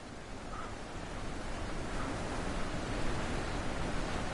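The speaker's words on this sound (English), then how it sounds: "that waterfall is so loud" Loud waterfall in the video game The Witness, a dense, steady roar of rushing water that swells slightly and fills the whole clip, heard alone.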